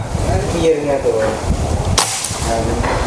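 A single sharp crack of an FX Black Venom PCP air rifle shot at close range, cutting through a noisy background with speech around it.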